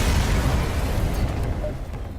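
A spaceship blows up in the video game FTL: a loud, roaring blast fills the whole moment, then slowly thins and fades.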